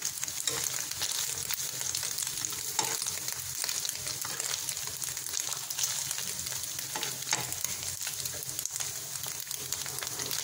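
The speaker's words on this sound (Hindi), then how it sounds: "थोड़ा सा कीमा जो है जैसे ही हम ऐड करेंगे तो थोड़ा थोड़ा सा उड़ेगा, ऐसा ये करता है" Minced meat keema fries in a hot pan, making a dense, constant sizzle dotted with sharp popping spatters and crackles, close and loud throughout with no voices.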